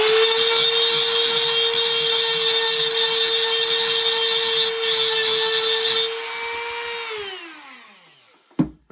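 A small power tool roughs up the inside of a metal iMac lamp neck, giving a loud, steady, high whine for several seconds before it winds down and ends with a sharp clunk.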